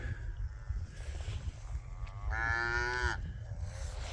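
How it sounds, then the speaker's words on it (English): A cow on a wintry Missouri farm gives a single long moo partway through, clear but not close, over a low rumbling outdoor background. "That's a really good cow there"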